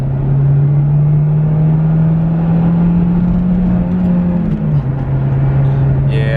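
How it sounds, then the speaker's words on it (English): Honda car accelerating hard in third gear as the engine climbs toward VTEC, a loud steady engine drone rising slowly in pitch with a brief shift in tone near the end, close and continuous with no talk. "I want to do a quick little pull. I'm trying to hit VTEC"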